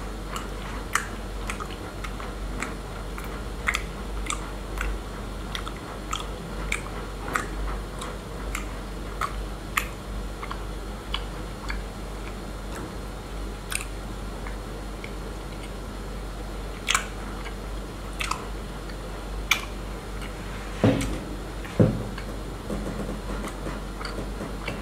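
Honeycomb being chewed close to the mic, a long run of small sticky clicks and wet crunches at an uneven pace over a low steady hum, with a couple of heavier squishes near the end.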